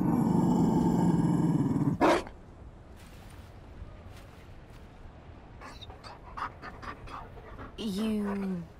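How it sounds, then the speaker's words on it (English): A Mabari war dog in Dragon Age: Inquisition, loud rhythmic panting at first, then a sharp sound, followed by quieter scattered noises and a short growl-like vocal near the end. "You found a dog? They don't breed Mabari in Olay."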